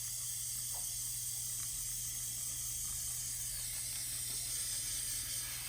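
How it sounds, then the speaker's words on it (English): Krylon Triple Thick clear sealer spraying from an aerosol can onto painted mandala rocks, a steady faint hiss with small clicks and taps. "Get my clear spray out."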